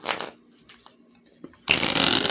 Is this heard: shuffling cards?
yes